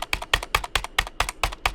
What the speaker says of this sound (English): every time you press a key, the entire keyboard rattles